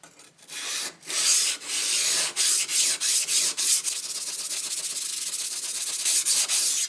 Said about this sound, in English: What I've opted to do is to do it on the Waterstone